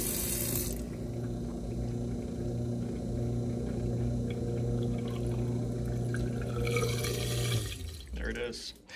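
Water keeps trickling and dripping through a basement home-brewery sink's newly installed copper and PVC plumbing after the flow is shut off, a steady close running hum that thins and falls off near the end.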